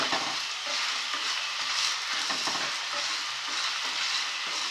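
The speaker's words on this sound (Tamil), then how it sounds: "சின்ன வெங்காயமும் தேங்காய் சிலையும் உள்ளே போட்டுருவோம். எல்லாம் மொத்தமாக நல்லா வதக்கிட்டு" Shallots, coconut and masala spices are sautéed together in a pan, a continuous close sizzle broken by repeated scraping stirs, moderately quiet with no speech.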